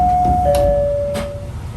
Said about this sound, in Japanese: 乗降はなくそのまま扉が閉まります。